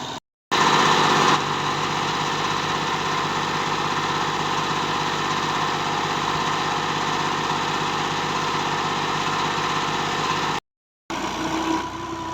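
A Ghazi tractor engine runs steadily in a field, its close, loud mechanical drone continuous and even, cut briefly by two short gaps of silence.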